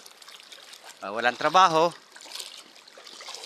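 River water flows in a steady, soft rush that runs through the whole stretch, with someone talking briefly over it in the middle.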